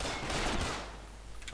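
The Golden Gun pistol in the video game Combat Arms fires a rapid stream of shots, a dense burst of gunfire that starts loud and then tapers off over a moment.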